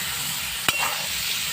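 Bhetki fish fat tipped into a pan of lightly fried potatoes sets off a sharp splash, then a steady, close hiss of frying oil sizzling alone.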